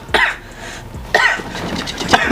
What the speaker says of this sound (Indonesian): gua batuk-batuk lagi